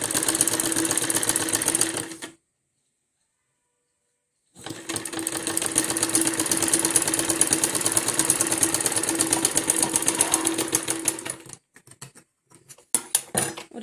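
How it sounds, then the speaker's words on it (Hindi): A sewing machine stitches buckram and two fabric strips together for a salwar poncha, running in fast, close, steady bursts, pausing for about two seconds and then starting again before trailing off into a few clicks. "और तीनों कपड़ों को एक साथ सिलेंगे, बुकरम को भी और दोनों पट्टियों को"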